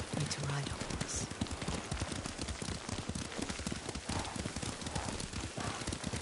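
Horse hooves clip-clop steadily during a ride in a video game, with light rain pattering underneath and a voice speaking over the rhythmic footfalls.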